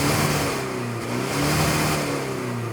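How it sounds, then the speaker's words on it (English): 2024 Toyota Fortuner Crusade engine revs through its exhaust, a steady, loud, close rumble with rising and falling pitch sweeps for a few seconds and no talk. "you have a full-size spare wheel and an exhaust pipe. Actually sounds weirdly good."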